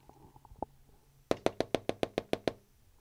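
Insistent knocking on a door: a burst of nine rapid, evenly spaced, sharp raps, loud and close, preceded by a few softer, scattered taps.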